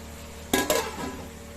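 A lid set onto a cooking pot of prawn curry with Malabar spinach and pumpkin, giving two quick close metallic clanks followed by a short fading ring, with no voices.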